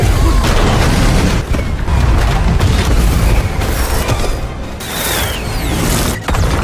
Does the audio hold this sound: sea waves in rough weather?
no